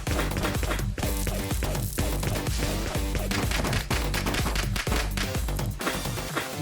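Cartoon superhero gunfire rattles off in dense rapid bursts and sustained volleys of loud shots. The shooting continues almost without a break through a busy, clattering action scene.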